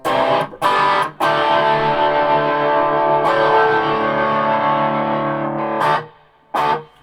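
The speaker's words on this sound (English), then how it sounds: "it's got a reverb tank on it, reverb works" Sustained distorted electric guitar chords ring out through a Vox AC15 amplifier with a lingering spring reverb tail, broken by a few short sharp gaps and strums.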